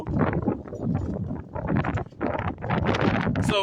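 Hard wind gusting loudly against an outdoor microphone, a rough, buffeting roar that swells and drops in waves with no talk.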